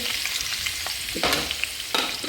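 Onions fry in a hot pan for mutton head sukka with a continuous sizzle, two louder bursts of hissing sputter rising as the pan is stirred, close up with no talk.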